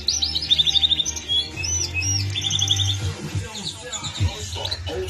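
Caged Norwich canaries, including a trimmed yellow cock bird, chirp and trill in quick bright bursts close by, over a low steady hum and some background rustling.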